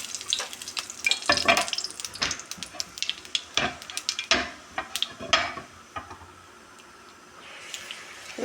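Dried red chillies and nigella seeds crackle and sizzle in hot oil for pabda fish, with sharp spitting pops scattered over a steady frying hiss that eases toward the end.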